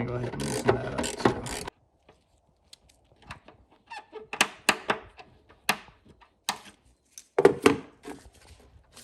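A ratchet fitted with an 8mm bit loosens the throttle body clamp on a four-cylinder Chevy Malibu, giving short bursts of close, rapid clicking separated by pauses, with someone talking briefly at the start.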